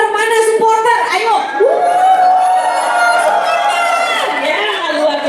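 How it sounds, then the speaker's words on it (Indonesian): A large crowd of supporters cheers, shouts and whoops for student esports competitors at a national school esports league event. The noise is loud and steady from start to finish, with no voice speaking over it. "Kita berikan tepuk tangan buat mereka yang akan berlomba hari ini."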